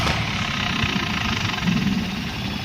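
A tractor engine runs steadily on a farm field during seed sowing, a continuous loud mechanical drone with low rumble and no pauses throughout.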